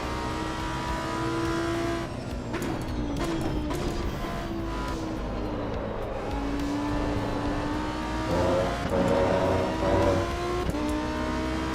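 A Ferrari race car engine in Assetto Corsa EVO, played in VR, roars loudly and steadily, its pitch climbing and falling through gear changes, with other cars close by throughout.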